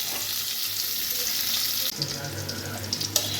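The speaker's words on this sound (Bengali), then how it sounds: "বেশ 10 মিনিট ধরে অন্তত কিন্তু কাঁকরোলগুলোকে ভাজতে হবে হালকা স্টিম" Spiny gourd (kankrol) pieces fry in a pan in a home kitchen, giving a continuous soft sizzle close up, with a few clatters of stirring near the end.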